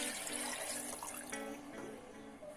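Cold water poured into a pot for beef pilau, a faint continuous splashing pour that thins out toward the end.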